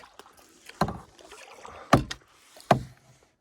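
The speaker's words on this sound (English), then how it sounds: "This is the conditions that you want when you're paddling on a lake." Solo canoe paddled across a calm lake just after ice-off, with three distinct paddle strokes and splashes spaced about a second apart, fairly close and alone over quiet surroundings.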